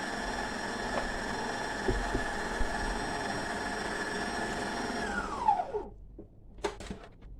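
An electric mixer creams ingredients in a steady whirring drone, then winds down with a falling pitch as it switches off, followed by a few faint clinks.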